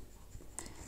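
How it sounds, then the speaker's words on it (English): A pencil scratches on paper while half a heart shape is drawn, quiet close strokes with one brief sharper scrape near the end. "I think I'm going to use a pencil. And we're going to draw half a heart."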